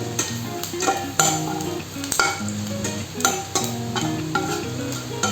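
Dry whole spices, two cinnamon pieces, bay leaves and Bengali five-spice with whole dried red chillies, sizzle steadily in hot oil in a pan, with repeated close scrapes and clinks of a spatula stirring throughout.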